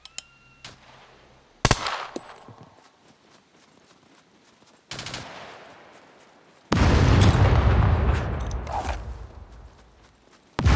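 ASVL rifle fire in the survival game Scum, a few separate loud shot bursts with gaps, the last one long and booming with a heavy low rumble.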